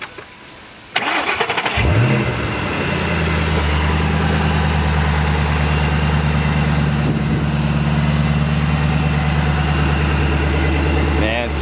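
A 2008 Shelby GT500KR engine with a Whipple supercharger cranks and fires up, then settles into a loud, deep, steady idle with a rumbling throb that carries on to the end.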